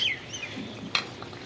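Leta and shingi fish go into a pot of potato and papaya curry, one brief clattering plop over a soft, steady simmering hiss, close by with no voices.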